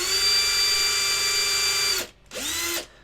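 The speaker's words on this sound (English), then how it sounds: "you can always tape your drill at a certain depth so that it will never go past that tape" A power drill bores pin holes into a 1/6 scale resin figure kit, whining steadily and loudly for two seconds, stopping briefly, then spinning up again for a shorter burst.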